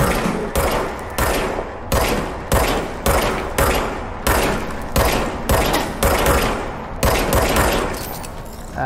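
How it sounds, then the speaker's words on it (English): Rapid bursts of gunfire from a gun in the video game Control, about a dozen loud evenly spaced volleys in a steady rhythm, close and punchy with no talk. "Okay, now I have a gun."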